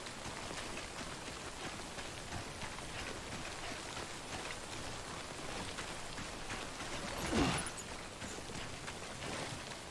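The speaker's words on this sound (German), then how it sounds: "Da regnet es ganz schön heftig." Heavy rain pours continuously in the video game Death Stranding, a dense, steady hiss across the whole stretch with a brief louder surge near the end, and no voices.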